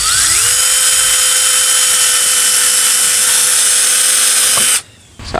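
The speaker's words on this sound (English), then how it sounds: "So I'm going to put a couple of rivets here." Power drill whining at high pitch as it bores through a PVC holster before riveting, a single steady loud run up close that stops abruptly near the end.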